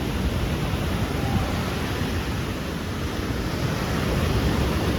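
Surf washing onto Chaweng Beach on Koh Samui, a steady loud broadband roar of waves with wind rushing across the microphone throughout, no voices.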